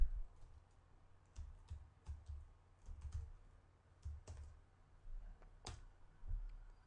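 A computer mouse gives sparse, quiet, irregular clicks, with short sharp taps separated by pauses in an otherwise near-silent room.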